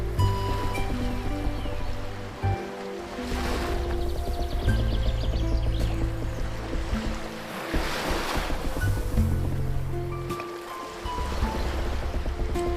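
A cartoon sea effect plays as a big boat sails toward a village shore, with waves surging and washing in a continuous roar, swelling and easing in rolling cycles mixed with wind.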